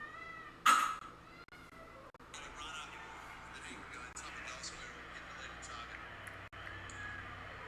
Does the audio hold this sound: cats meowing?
yes